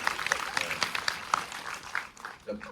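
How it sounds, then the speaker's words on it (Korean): Scattered applause rises from the audience at a film screening Q&A, with individual claps audible in a loose rhythm, fairly faint, fading near the end. "롯데 박수 한번 쳐드려야 돼요"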